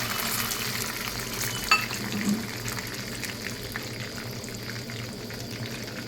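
Lentils and peanuts fry in a hot oil tempering, giving a steady, fairly quiet crackling hiss with no talking and a single small clink partway through.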